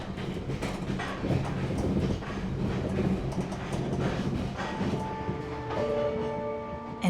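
The Reunification Express overnight train in Vietnam rumbles steadily at moderate volume, with rhythmic clicking of wheels on rail joints and a few sustained tonal whines near the end, heard from inside the carriage.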